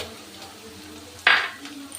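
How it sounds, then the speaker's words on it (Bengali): Onion, garlic and a large tomato frying in a pan, with a low steady sizzle and one sharp burst of hissing as the tomato goes into the hot oil, then settling back to a soft fry. "টমেটোটাকেও আমি একটু কাঁচা গন্ধটা যাতে চলে যায় সেই মতো ভেজে নেব"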